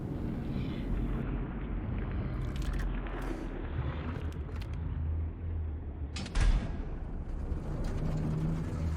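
Grinding, creaking lift mechanism from the game Scorn, a continuous low mechanical rumble with scattered clanks, squeaks and a sharp bang as the platform moves.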